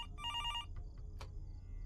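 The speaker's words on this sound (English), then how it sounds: "Is that the phone I'm hearing?" A telephone rings with one short electronic trill burst, fairly faint over a low background hum, followed by a few small clicks.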